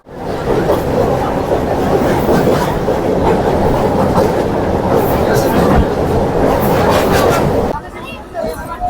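Loud rumbling of a Howrah to Digha local train in motion with rattling carriages and crowd chatter, then the noise drops abruptly near the end as it enters Ramnagar station.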